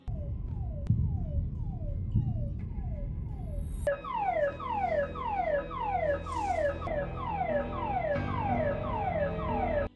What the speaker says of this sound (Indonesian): alarm kapal sudah berbunyi